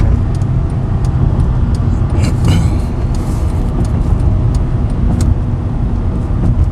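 Cabin sound of a 2010 Honda Accord LX sedan making a U-turn, a loud steady low rumble of engine and road noise, with faint clicks and rustles inside.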